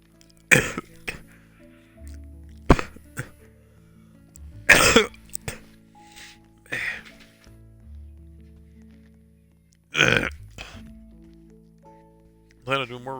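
One person coughs in a few sharp, close bursts spread across the stretch, with quieter throat clearing between them, against a low steady background tone.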